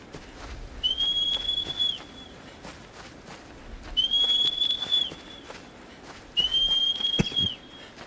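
In Shadow of the Colossus a character whistles for the horse Agro three times, each a sustained high, level whistle of about a second with pauses between, over soft footsteps and ambient noise.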